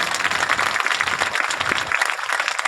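Dense, loud audience applause in a hall at a spiritual retreat centre, many hands clapping continuously without a break for the whole stretch, with no voices over it.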